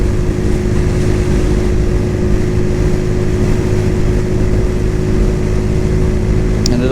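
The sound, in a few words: Cougar Vitacci XMT 250 motorcycle engine during test ride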